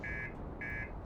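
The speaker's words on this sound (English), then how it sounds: "Don't mind the beeping, it's fine." Spaceship warning alarm in the video game Outer Wilds after a rough landing, two evenly spaced electronic beeps, steady and moderately loud over low background rumble.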